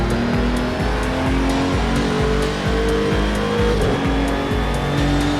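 A GT3 race car at Long Beach in a racing game runs at full throttle, its engine droning loud and constant up close, with a brief dip around the middle and a faint tire squeal.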